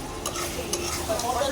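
Chicken kosa is stirred and fried in a pan, with a soft continuous sizzle and repeated scraping strokes of the spoon, close and alone.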